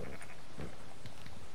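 Sheep bleating in Red Dead Redemption 2, several short, wavering bleats close by, repeated over a steady background of ambient game noise.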